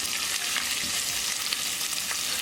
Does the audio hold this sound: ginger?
yes